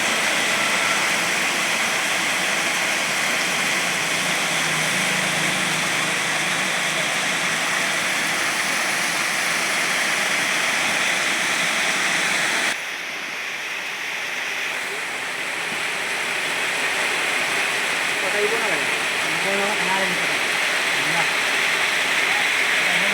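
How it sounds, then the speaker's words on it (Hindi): Heavy rain pouring down on Karahan market in Mau, a dense, loud, unbroken roar of falling water that dips briefly midway and then swells again, with a faint voice now and then under it. "भारी बारिश हो रही है।"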